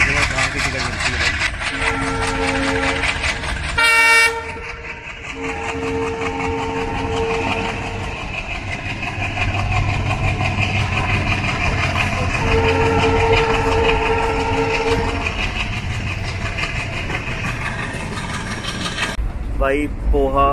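A train on an Indian Railways route rumbles steadily from onboard, with clickety-clack and brief horn blasts, and people talk over the running noise.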